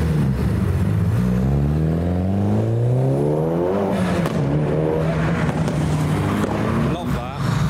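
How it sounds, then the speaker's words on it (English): Honda Civics revving and pulling away from a JDM car show, their engine notes sweeping up and down in loud harmonic arcs, with other car noise and crowd chatter around them. "We've got Civics revving on behind them."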